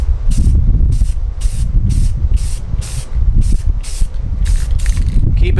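A spray can applies white primer to a figure in a rapid series of short, loud hissing bursts, about a dozen evenly spaced sprays with tiny gaps between them.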